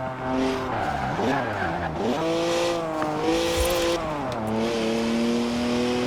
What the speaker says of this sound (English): 3-litre straight six, 335 horsepower, 2 turbos, and as much sideways action as you like.